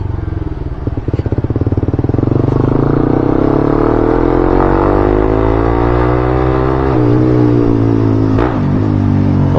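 A motorcycle fitted with an Akrapovic Pro 1 exhaust revs loudly and close, its engine note rising and sweeping through several throttle blips over a rumbling idle.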